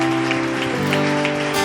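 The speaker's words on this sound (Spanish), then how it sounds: "dale un fuerte aplauso al Señor" A church congregation claps together at a worship service, a steady wash of applause running beneath sustained keyboard or organ chords for under two seconds.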